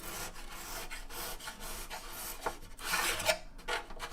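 Close, dry rasping scrape of a brand new razor blade drawn carefully along masking tape on an acoustic guitar top, several short strokes and rubs with a slightly louder, brighter stretch near the end.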